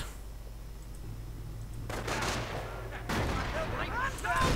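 Gunfire crackles in a World War II real-time strategy game as a pioneer unit is sniped. Several sharp bursts and distant shots ring out over a low rumbling backdrop, with faint voices underneath.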